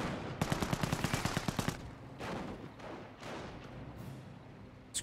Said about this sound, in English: Seen a bit of fire there from Grenadiers